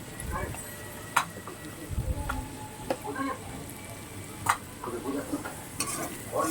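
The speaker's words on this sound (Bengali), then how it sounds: "এবার এটাকে ভালো করে নাড়াচাড়া দিতে হবে, পুরোপুরি ভাজা ভাজা হয়ে যাবে" Spices frying with turmeric and cumin powder, a soft sizzle under regular stirring scrapes and a few spoon taps on the pan, with a voice talking over it.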